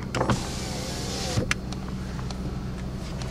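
The power window motor of a Ford Crown Victoria whirs for about a second and a half with a rising strain, then stops with a soft thunk, followed by quieter clicks against a steady engine hum.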